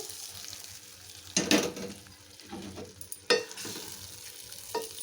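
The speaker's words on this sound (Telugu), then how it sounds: "ఇప్పుడైతే పప్పుని దీంట్లో యాడ్ చేసేస్తున్నాను చూడండి. ఈ విధంగా మొత్తం పప్పు అంతా దీంట్లో వేసేసుకోవాలి." Cooked dal goes into a hot pan with mango and is stirred, giving a low sizzle broken by two sharp scraping clatters of the spoon against the pan, close and without speech.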